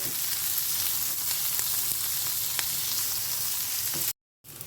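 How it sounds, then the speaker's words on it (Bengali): Capsicum and onion fry in hot oil for a fish curry, a steady dense sizzle that holds evenly throughout, cutting out abruptly near the end before briefly resuming. "এটাকে কিন্তু ভাজতে ভাজতে সিদ্ধ করে ফেলবে না যাতে একটা ক্রাঞ্চিনেস বজায় থাকে"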